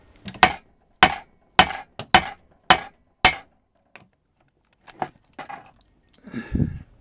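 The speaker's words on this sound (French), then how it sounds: "j'avais tapé un, voire peut-être plusieurs coups secs sur ma grande vis pour voir si le volant s'en va" Hammer blows on the large screw of a chainsaw flywheel puller: about seven sharp metallic strikes in a quick steady rhythm, then a few lighter taps and handling noises, close by.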